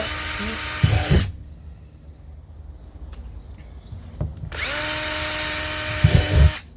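A power drill bores drainage holes into a plastic strawberry tower planter in two loud, sustained whirring bursts separated by a quieter pause with small handling knocks.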